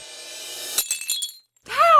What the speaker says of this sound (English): I barely touched it and it just shattered into 100 pieces